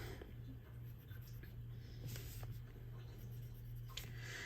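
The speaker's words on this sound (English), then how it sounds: "I'm going to grab a pencil, and I'm going to mark exactly where I would like to cut this." Pencil marking a cut line on a paper bag for a gift craft, a faint scratchy scribbling close by over a steady low hum, with no talk.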